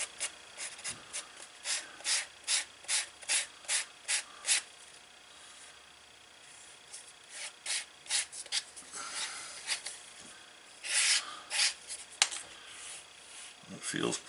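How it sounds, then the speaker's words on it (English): Sandpaper rasps along the edge of a leather single-pocket card wallet in quick rhythmic strokes, a run of about ten even passes, a pause, then another burst of rubbing, close and fairly quiet. "We can take and do a little sanding here."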